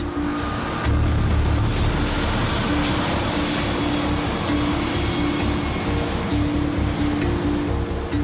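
Airliner on Flight MH370 taking off, a loud steady roar of jet engines heard throughout with a low rumbling drone.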